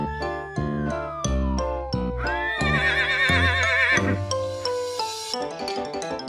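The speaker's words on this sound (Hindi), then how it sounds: "दौड़ा दौड़ा दौड़ा घोड़ा तुम उठा के दौड़ा" A horse whinnies amid a bouncy children's nursery rhyme, the neigh rising and falling over music, bells and hoof-like clip-clops.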